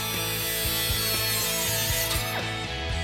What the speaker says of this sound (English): Using a cutoff wheel, slowly cut along the marked line